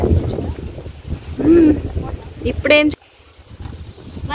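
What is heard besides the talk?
wind blowing on microphone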